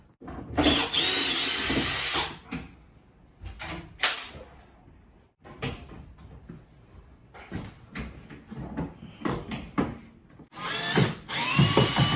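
Power drill backing screws out of a range hood cabinet during a kitchen install, bursts of whirring in several separate runs with pauses and clunks between, fairly close and loud.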